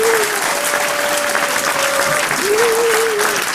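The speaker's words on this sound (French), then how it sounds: "il faut applaudir beaucoup" Loud, sustained applause from a conference keynote audience, a thick continuous roar of clapping hands with a thin whistle-like tone sliding in and out above it.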